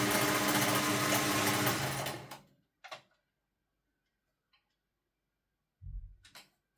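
A Singer 401 sewing machine stitches with a loud, steady whirring run for about two seconds, then stops. A few faint clicks and a short low thump follow in near silence.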